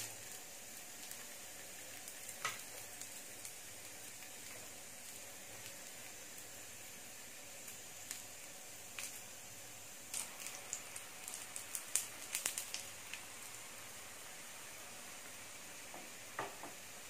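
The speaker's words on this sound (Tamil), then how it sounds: "கொஞ்சம் எண்ணெய் ஊற்றணும். அப்போ தான் அது நல்லா பொரிஞ்சு நல்லா வேகும்." Bun parotta fries in oil on a pan as a soft, steady sizzle with scattered faint crackles and pops, quiet and close, with no speech.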